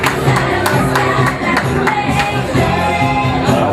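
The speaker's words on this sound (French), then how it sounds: "Applaudissements pour toute le candidat" Crowd at a beauty pageant casting applauds the contestants, with loud, dense clapping and cheering close by that stays steady throughout.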